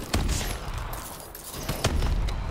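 Repeated grenade blasts in a zombies video game, a crawler zombie at round 95 absorbing dozens of explosions; dense, noisy bursts with two sharper booms standing out over a continuous rumbling din.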